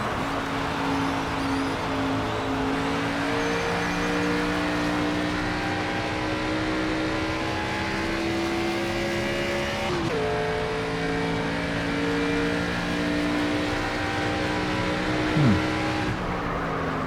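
A NASCAR 25 race car engine running close to the wall in a video game, a loud sustained droning roar whose pitch climbs, drops sharply near the middle, then climbs again before a brief downward sweep late on.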